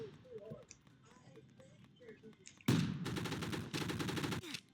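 Rapid bursts of automatic gunfire from the online shooter Gun Fire Arena erupt suddenly and loudly after quieter game ambience, continuing in dense repeated volleys.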